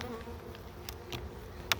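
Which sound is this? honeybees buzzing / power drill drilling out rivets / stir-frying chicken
honeybees buzzing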